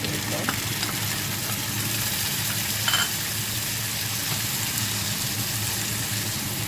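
A large tomato goes into half-fried onions in a pan for Jaffna-style egg tomato rice, with a steady, close, even sizzle throughout and a brief stir near the middle.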